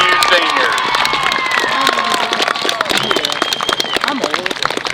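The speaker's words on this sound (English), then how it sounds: "let's have one more round of applause for our class of 2022" A crowd at a high school senior night claps and cheers for the graduating class of 2022, with sharp, rapid handclaps mixed with shouts and whoops, loud and sustained throughout.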